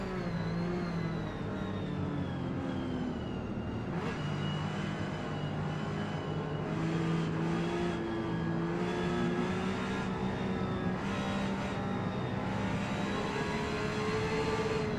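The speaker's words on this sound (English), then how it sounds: "We're driving a Porsche 930 race car." The engine of a Porsche 930 race car in Gran Turismo 7 drones steadily and loudly, its pitch rising and falling through gear changes across a continuous run with no talk.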